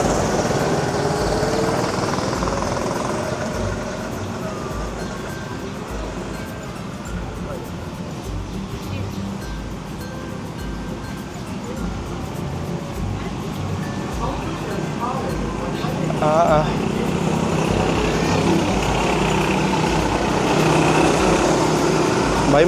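Racing ride vehicles at Dream World amusement park in Bangkok buzz with small high-pitched engines, a continuous droning hum from a distance that swells louder toward the end, while people talk nearby.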